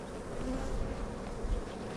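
Honey bees humming over a beehive frame, a dense, steady close buzz with no talk.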